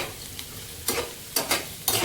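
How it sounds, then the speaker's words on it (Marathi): Small chopped potato pieces frying in ghee in a pan give a gentle sizzle, broken by three sharp, close stirring scrapes near the end, with no voices. "त्यात मी हे बारीक बारीक चॉप केलेले बटाट्याचे तुकडे मी भाजून घेत आहे."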